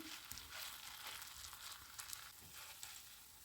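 Steady hiss and crackle of grated potato batter frying in hot oil, a continuous sizzle with small pops, fairly quiet and close.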